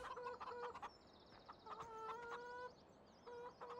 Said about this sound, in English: Here are the chickens.